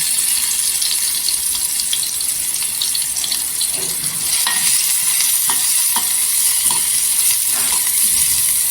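Onion frying in a pan with whole garam masala for a carrot, beetroot and tomato soup, a steady loud sizzle throughout with occasional stirring scrapes, no talking.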